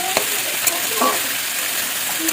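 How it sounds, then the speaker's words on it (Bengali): Continuous loud sizzling of potatoes frying in a hot pan, with a few soft stirring clicks and scrapes over the steady hiss. "এবার একটু আলুটা ভাজা ভাজা হয়ে যাবে,"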